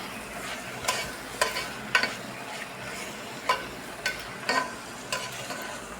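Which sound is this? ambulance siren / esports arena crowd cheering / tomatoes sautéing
tomatoes sautéing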